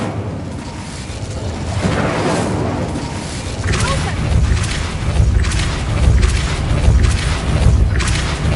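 An Incendio fire spell is cast repeatedly in a Harry Potter video game, giving a run of loud booming, whooshing bursts about once a second over a steady low rumble of game sound.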